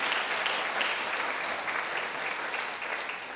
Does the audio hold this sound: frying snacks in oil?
no